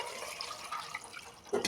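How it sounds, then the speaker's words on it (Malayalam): Water poured into a pot of tapioca (cassava) pieces for boiling makes a brief, steady splashing wash, close by, ending in a slightly louder splash. "പാകത്തിന് വെള്ളം ഒഴിച്ച്"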